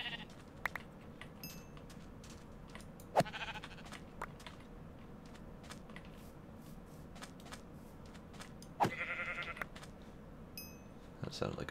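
Sheep bleating in a Minecraft-style game, with a few faint, brief bleats scattered among soft clicks and game noises.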